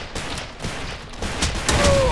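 Point-blank sniper rifle shots in the video game Ace of Spades: a few sharp, loud cracks spaced irregularly over a short burst of gunfire.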